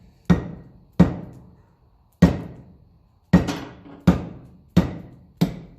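Seven sharp metallic hammer blows strike rivets on a Lucas dynamo from a 1954 Ferguson 20 TEF diesel tractor, each close and loud with a short ringing decay, spaced unevenly with pauses between strikes.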